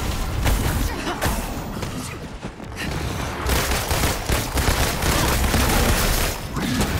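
Dense, loud video game gunfire from the Avengers game, rapid overlapping shots and bursts blending into a near-continuous barrage with booming hits, briefly thinning about halfway through.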